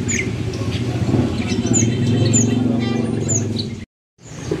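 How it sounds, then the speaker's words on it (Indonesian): An adult white starling (jalak putih) sings nearby in a bird market, with brief chirps and whistles over a steady low hum of background noise, cutting out briefly near the end. "Ini jalak putih dewasa. Ini yang gacor"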